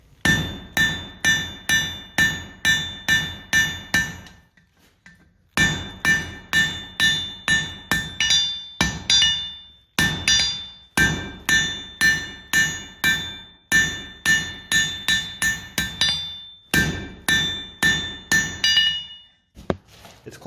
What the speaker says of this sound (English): Now that the basic shape is established, I can hammer it to closer to its final shape.